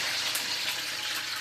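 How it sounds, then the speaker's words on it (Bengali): Water poured into hot cooking oil in a pan gives a steady, bright hiss that holds evenly for a second and a half, with no talking. "প্রথমে তেলের ভিতরে একটু জল ছাড়িয়ে দিব।"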